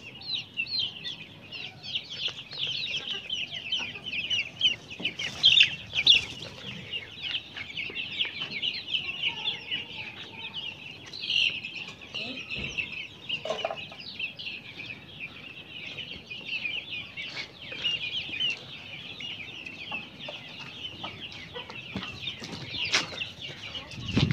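Chickens cluck and a rooster calls in a farmyard, with repeated clucks and short bursts of wing flapping, moderately faint and fairly distant over a quiet background, no talking.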